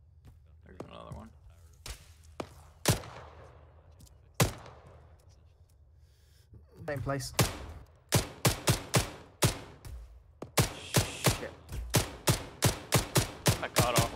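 Gunfire in the shooter Arma 3, scattered sharp shots early, then a fast run of repeated bursts like machine-gun fire toward the end, with low voices speaking between shots.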